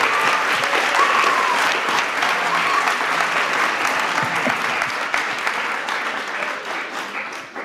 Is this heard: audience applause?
yes